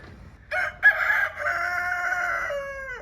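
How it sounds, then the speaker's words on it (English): A rooster crows loudly and close by in Albania, a long drawn-out call that tails off, over faint background rumble. "our friend the rooster is saying goodbye"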